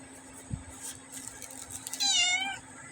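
A cat meows once, clear and close, a short rising-then-falling cry after a stretch of quiet room noise with a soft thump before it.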